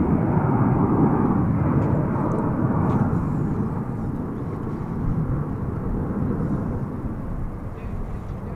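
A jet airliner at DFW Airport, flight 175 bound for Haneda in Tokyo, gives a steady loud engine roar that stays constant and close throughout.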